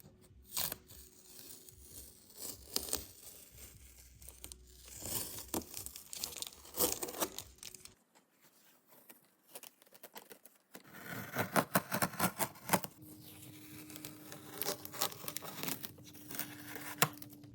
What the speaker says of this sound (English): I can't end the video without peeling the tape off.